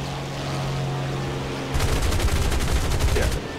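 Rapid machine gun fire in the War Thunder air combat game, a dense burst of shots rattling for under two seconds over a steady engine drone, with no talking.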